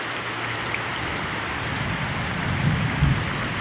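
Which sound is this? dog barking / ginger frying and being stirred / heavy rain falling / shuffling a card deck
heavy rain falling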